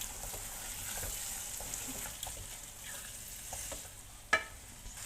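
Minced keema frying and being stirred in a pan, a soft continuous sizzle broken by scraping strokes and one sharper clink near the end.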